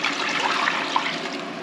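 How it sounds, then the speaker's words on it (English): Seven cups of water pour into a pot while cheeseburger macaroni is being made. The stream rushes loudly and steadily, close up and with no voices, for a short burst. "So I'm gonna add my 7 cups of water here"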